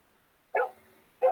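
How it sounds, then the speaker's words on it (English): A cockapoo barks twice in the snow, short sharp barks about half a second apart, close by and clear against a quiet background. "So it's barking at it, telling it, come on, do something."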